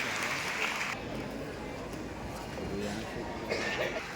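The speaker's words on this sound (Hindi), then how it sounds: "एक बार जोरदार तालियां हो जाए हमारे सारे जोरदार तालियां हमारे बच्चों के लिए" An audience at a school event applauds students with steady clapping that fills the hall, mixed with crowd noise and a voice speaking over it.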